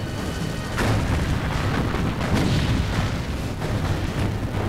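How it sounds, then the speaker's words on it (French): Deep, continuous booming from battleship 406 mm and 355 mm naval guns, thunderous rumbling blasts rolling one into another with no pause, loud and dense. "Un bruit de tonnerre retentit à chaque coup de canon de 406 et 355 mm."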